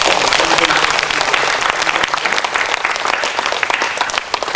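A congregation at a revival meeting in a Texas church, Semihan Church, bursts into loud sustained applause, a dense crackle of many hands clapping close and continuous throughout.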